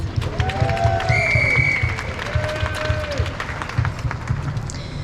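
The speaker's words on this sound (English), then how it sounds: "It's time to give you all a round of applause." An audience applauds an event speaker with a steady wash of clapping, while whistles or cheers rise and slide over it.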